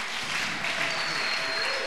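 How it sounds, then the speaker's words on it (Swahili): A church congregation claps together in sustained, dense applause that fills the whole moment at a steady, fairly loud level, with no voices rising above it. "Patia Yesu makofi."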